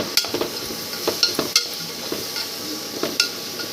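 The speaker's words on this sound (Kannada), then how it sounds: "ಈ ಟೊಮೆಟೊ ಹಾಕಿದ ಮೇಲೆ ಒಂದು ಸ್ವಲ್ಪ ಹೊತ್ತು ಹಿಂಗೆ ಹುರಿಬೇಕು" Chopped medium tomato fries in a pan for semiya upma while a spoon stirs it, giving a soft steady sizzle broken by sharp scraping clicks at irregular intervals.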